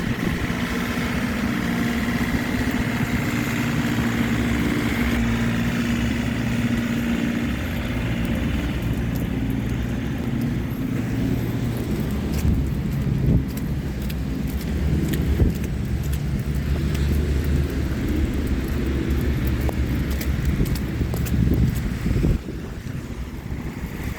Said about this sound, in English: The snowplow is working.